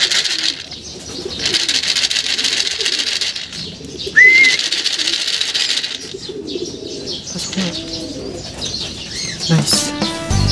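Racing pigeons come in to a home loft at the end of a 57 km club training race, with soft coos, a sharp chirp and bursts of wing flapping over steady outdoor ambience, with brief faint talk.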